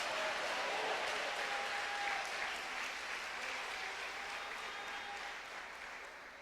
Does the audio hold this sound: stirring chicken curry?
no